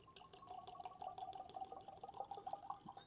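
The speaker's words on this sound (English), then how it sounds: "let's get the pour going here into the Whiskey Tears Glencairn." Jefferson's Ocean Rye Double Barrel whiskey pours into a Whiskey Tears Glencairn glass, a close, steady liquid trickle with small splashes and drips lasting a few seconds, with no voices over it.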